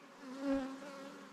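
Honey bees drone in an opened hive with larvae hatching, a steady close buzz that swells briefly as one insect passes near and then settles back into the colony hum.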